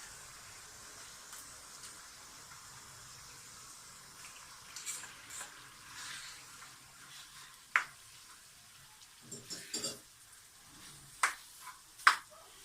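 500 grams of minced meat (keema) fry in a pan over a high flame, giving a soft, steady sizzle throughout, broken by scattered sharp clicks and spoon scrapes toward the end.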